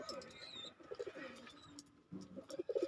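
Domestic racing pigeons in a home loft, some sitting on eggs, give low, throaty coos in uneven bursts, close by and fairly loud, with faint higher chirps above and a soft voice now and then.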